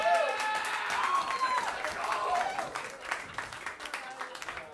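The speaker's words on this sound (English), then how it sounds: "Give a round of applause, ladies." Crowd applause at a comedy roast battle, clapping mixed with whoops and cheering voices, loud at first and thinning out over a few seconds.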